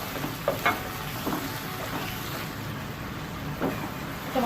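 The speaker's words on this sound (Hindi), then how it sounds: "टमाटर और हरी मिर्चों को भूनते हुए 2 मिनट हो गए" Tomatoes and green chillies fry in a pan with a continuous close sizzle, broken by occasional clacks and scrapes of a spoon stirring, and no voices.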